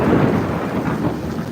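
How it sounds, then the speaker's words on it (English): Loud thunder rolls through a thunderstorm in Effingham, Illinois, with lightning striking less than a mile away; a deep, continuous rumble fills the scene with steady rain falling underneath, no talk. "This is very loud thunder."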